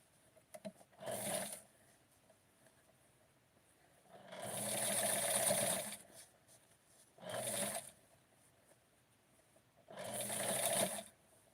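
A sewing machine stitches small Barbie doll pants in four separate bursts of rapid mechanical whirring, close and clear, with quiet pauses between runs.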